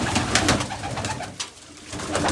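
Pigeons released from a coop make a busy, continuous racket of cooing and fluttering wings close by, with a few louder bursts and a brief lull midway.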